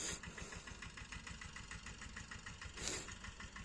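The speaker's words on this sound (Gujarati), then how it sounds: "અમારા પપ્પા ટ્રેક્ટરે બાજરીનું વાવેતર કરતા જાય છે" A tractor engine runs steadily at a distance while sowing pearl millet in a field, a faint, even mechanical chugging with a brief louder swell near the end and no talk.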